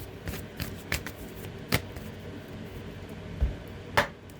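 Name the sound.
shuffling a deck of tarot cards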